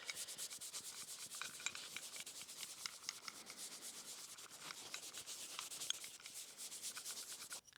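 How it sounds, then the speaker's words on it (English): A Scotch-Brite scuff pad scrubs a Honda Ruckus scooter part with rapid, continuous back-and-forth rasping strokes, close and fairly quiet, with no talking. "So just give this a little cleaning with a Scotch-Brite pad"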